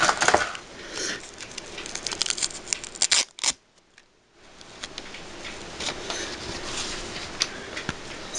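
Scissors cutting through two stacked pieces of fabric for a baby bow tie give close, crackly snipping and crunching strokes, broken by a brief silent pause before the cutting resumes.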